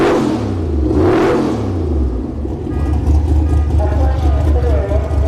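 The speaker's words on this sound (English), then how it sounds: "The Fox body was so loud" A Ford Fox body car at a drag race, engine revving hard in loud sweeping bursts, then a sustained heavy roar with a second rising engine, with people talking over it.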